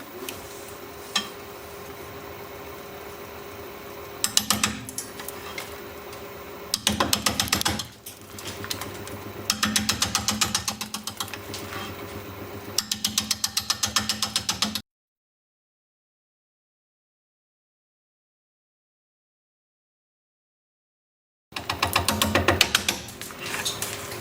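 A wood lathe spins at 450 RPM while a 5/8 inch bowl gouge cuts into a mulberry blank, giving repeated rough scraping and chattering bursts over a steady motor hum, broken by a silent gap.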